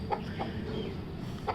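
A hen clucks a few times in short, soft calls, close to the microphone over a steady low outdoor hum; an aged bird with a red comb, kept among other fowl.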